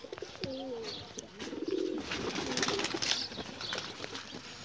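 Pigeons coo softly in short repeated phrases, with brief chirps and a flutter of wings, moderately close and not loud.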